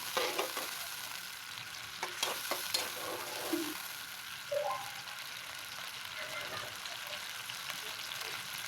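Chopped onions frying in a pan for an aloo gobhi dish, giving a continuous close sizzle with occasional stirring scrapes and light clinks, moderately loud and steady throughout.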